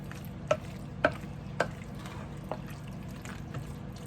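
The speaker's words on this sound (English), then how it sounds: "let's give it all a good stir" Southern potato salad being stirred in a bowl, a few soft wet clicks and scrapes of the spoon against the bowl at irregular intervals, quiet and close, without talk.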